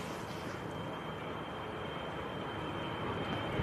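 A steady, distant Cessna Citation business jet engine roar holds evenly throughout at Manchester Airport, a broad whooshing drone with a faint high whine on top.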